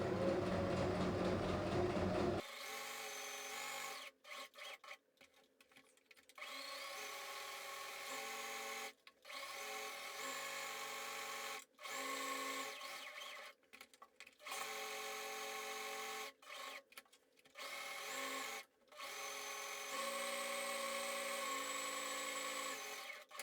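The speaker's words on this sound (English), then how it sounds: "we're going to sew all around the edge" Sewing machine running a seam around the edge of fabric for a drawstring bag, fast steady whirring stitches in several runs separated by short stops, fairly faint, with brief talk at the start.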